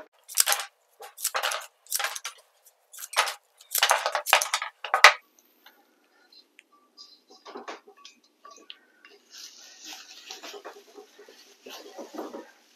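Flower stems are snipped at the bottom for a vase arrangement, giving a run of crisp, close cutting clicks in bursts, followed by quieter rustling and handling of the stems.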